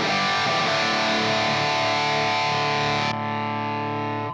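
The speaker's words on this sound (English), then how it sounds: "Let's start off by boosting it." Electric guitar played through a Line 6 POD Express with the boost effect on: a sustained, bright, slightly distorted chord rings out loudly, then is cut sharply into a thinner tone that decays away.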